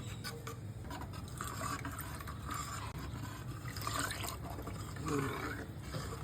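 Salt is stirred into a pot of black kavuni rice kanji, a close and steady wet sloshing and swirling of liquid that runs continuously with no voices.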